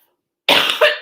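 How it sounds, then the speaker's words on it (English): Two rough coughs from someone with a chest cold, close and loud after a silent half second: a long hacking burst followed by a shorter second cough. "So I'm going to start coughing again."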